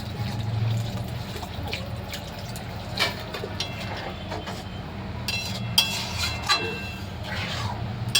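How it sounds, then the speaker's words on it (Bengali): Water from rinsing a spice bowl is poured into a pan of katla fish curry, giving a soft, steady splashing with a few light clinks of the bowl, close by, over a low background hum. "যে মশলাগুলো রেখেছিলাম সেই বাটি ধোয়া জলগুলো সব দিয়ে দিলাম।"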